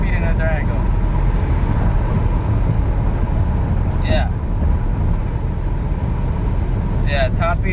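A 2017 Dodge Durango RT with a Hemi V8 runs flat out at its top speed, filling the cabin with a dense, unbroken roar of engine, tire and wind noise, while voices speak faintly underneath.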